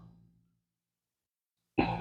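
A single rough throat clearing or cough from a person with a lingering weeks-long cough, close and fairly loud, bursting in after near silence with only a faint low murmur fading out at the start.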